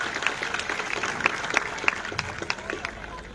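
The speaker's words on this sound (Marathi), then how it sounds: "आपल्या युवक बांधवांसाठी एक जोरदार टाळ्यांचा हात होऊन जाऊ दे" A crowd at an outdoor political rally breaks into steady, dense applause that fills the whole stretch, with voices mixed into the clapping.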